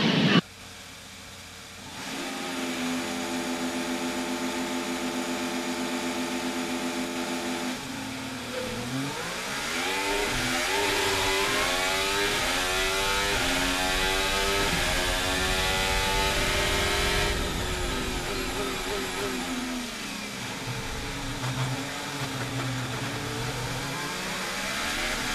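Formula 1 cars idle and rev on the starting grid at Monza during the 2024 Grand Prix, a loud sustained engine roar that rises and falls in pitch, building to an intense blare mid-clip before easing to a lower drone.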